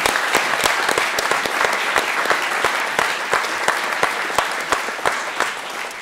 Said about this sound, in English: So if we could all give a round of applause for everyone on the panel.